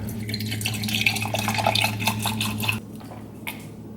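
Evian bottled water pours into a container for about three seconds, a bright splashing trickle over a low steady hum that continues after the pour stops, with a few faint drips.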